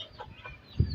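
Pet hens and a rooster cluck briefly in a backyard coop, a few soft nearby clucks ending in a louder, low burst, with no talking.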